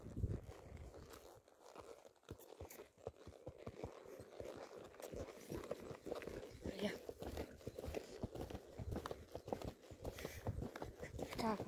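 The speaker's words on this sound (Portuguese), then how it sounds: "Dá um galopinho." A horse gallops on a farm ride, its hooves making a rapid, dense train of rhythmic thuds close by, with rustling movement noise throughout.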